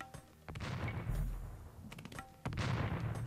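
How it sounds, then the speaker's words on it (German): Cannon fire in the strategy game Age of Empires II comes as repeated booming blasts with rumbling tails, several shots in quick succession over a low background. "Er schießt hier mit Kanonen."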